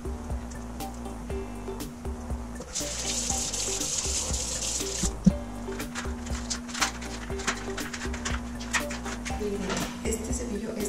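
Tap water runs steadily into a sink while someone brushes their teeth with a bamboo toothbrush, a continuous close splashing hiss with small clinks and a low hum underneath.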